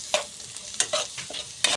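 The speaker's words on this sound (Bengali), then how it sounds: "ভালো করে আমরা মশলাটাকে একটু নাড়িয়ে চাড়িয়ে নেব" A spice mix is stirred and fried in a pan, with a soft background sizzle and about four sharp scraping strokes of the spoon spaced across the short span.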